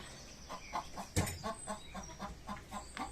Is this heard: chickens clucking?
yes